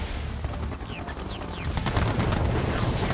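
Naval guns fire in the Red Alert 2 Yuri's Revenge strategy game, a rapid burst of sharp shots and booms building into a dense, continuous barrage, loud and close.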